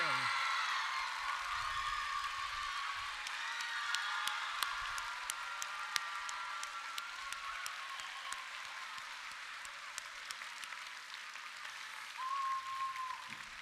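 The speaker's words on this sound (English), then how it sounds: "please stand and allow us to recognize and applaud you" Indoor audience applause for Dean's List nominees at a 2023 PNW District Sammamish robotics event opening ceremony: steady, sustained clapping from a large crowd for over ten seconds, with a voice briefly heard near the end.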